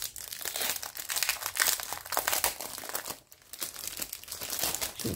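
A product is pulled out of its plastic film wrapping, giving continuous close, loud crinkling and rustling with brief pauses and no speech.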